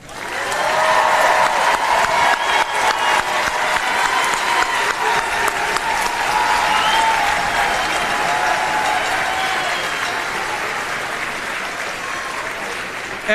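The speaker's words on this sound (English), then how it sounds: "Families, how about a round of applause?" Large audience applauding and cheering at a high school graduation ceremony, a loud, sustained wash of clapping with shouts and whoops mixed in, easing off gradually near the end.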